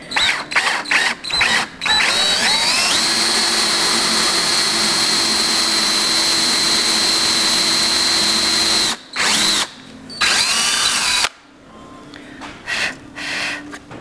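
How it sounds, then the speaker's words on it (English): Several quick trigger pulses of a power drill with a 3/8 inch paddle bit give way to a long, loud, steady whine as the hole is bored, followed by two short bursts and quiet handling noises. "so that I can drill a hole"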